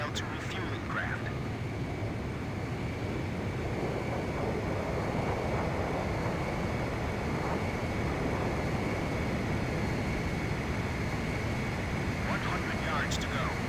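Jet aircraft engine roar in the Ace Combat 5 flight game as fighters close in on a refueling craft, a steady, loud broadband rumble filling the whole stretch with a faint voice underneath.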